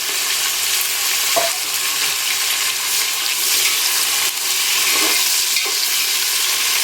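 Onions frying in a pot with cinnamon and cloves for prawn biryani: a loud, continuous sizzle with occasional stirring scrapes and small knocks, close by and without voices.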